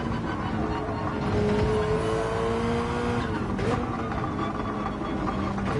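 Race car engine in Gran Turismo at the Nürburgring 24h circuit, a steady loud drone with a pitch that shifts as the car slows under braking, plus a brief squeal near the end.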